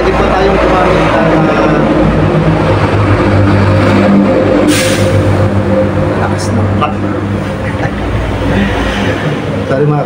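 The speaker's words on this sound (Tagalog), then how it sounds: "O kapag may dumadaan ng mga truck, malakas talaga." Trucks roll past on a highway just outside, making a loud, continuous low rumble and engine drone that fills the whole stretch of sound.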